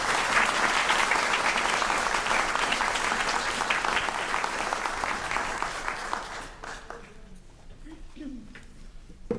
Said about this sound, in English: Can we give another round of applause for Alyssa?